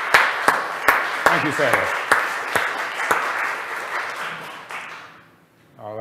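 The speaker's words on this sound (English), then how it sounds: "we want to perhaps give her particularly a round of applause for all she's done" A church congregation at a family service applauds, a burst of scattered, sharp individual claps that thins out and fades to near silence after about five seconds, with someone speaking briefly over it.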